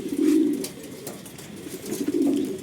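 Low, rolling coos from racing pigeons close by, two bursts separated by a quieter stretch with faint background rustle.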